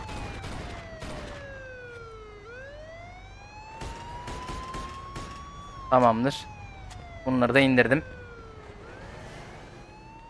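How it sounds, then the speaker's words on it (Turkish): Police car siren left on in the video game Mafia 2, wailing in long rising and falling sweeps at moderate volume, with short bursts of gunfire and someone talking over it. "Geri zekalının sireni de açık kalmış."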